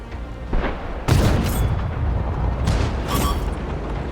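Tank gun firing in the World of Tanks video game, heavy booms with a big blast near the middle and another later, over a continuous rumbling battle background.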